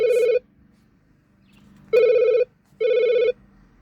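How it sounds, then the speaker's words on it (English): A mobile phone rings in three loud electronic bursts with pauses between, heard alone in a quiet room. "My phone is ringing, excuse me."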